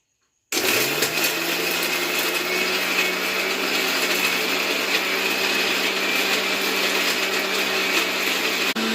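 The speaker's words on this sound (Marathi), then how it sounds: "मिक्सर वाटून घेतले मिक्सरला" A mixer grinder grinding karonda chutney starts abruptly and runs loud and steady with a high whirring whine for several seconds, no voices.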